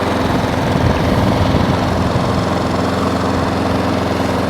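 A lawnmower's small petrol engine idles steadily and loudly up close, a continuous chugging drone with no talking.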